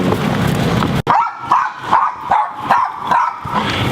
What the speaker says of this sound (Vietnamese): Chó.